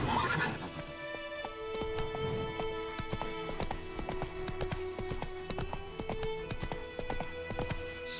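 Roach, a horse in The Witcher 3, gallops with a steady clip-clop rhythm and lets out whinnies, including a loud neigh at the start, all close and continuous over game music with no talk.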